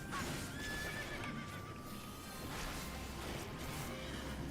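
In the online role-playing game Final Fantasy XIV, a horse whinnies over the clatter of hooves, a busy, steady game soundscape with no talk.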